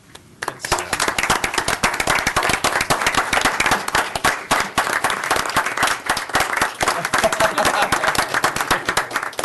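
A meeting audience at a county Board of Supervisors session breaks into sustained applause, many hands clapping loudly and continuously after a brief quiet start, with no voices standing out.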